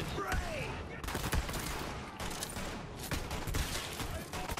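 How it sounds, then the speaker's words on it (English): Enemy gunfire in the video game Borderlands 3: dense, continuous bursts of shooting with sharp repeated cracks, loud and busy throughout, with game effects mixed in. "Somebody shooting at me over here."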